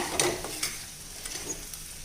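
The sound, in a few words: stirring ivy gourd fry with spice powder in pan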